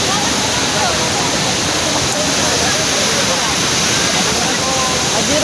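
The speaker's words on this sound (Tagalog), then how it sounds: "Very nice, the waterfall." Kawasan Falls in Cebu roars as a loud, constant rush of falling water, a dense unbroken wash close by that fills the whole moment with no pauses.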